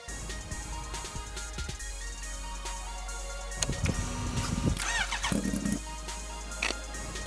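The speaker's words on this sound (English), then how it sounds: "This is my new custom supercharged Kawasaki Ninja H2." A custom supercharged Kawasaki Ninja H2 motorcycle engine idles with a steady low rumble, then rises through a few sharp revs and squealing bursts midway before settling back, heard fairly close.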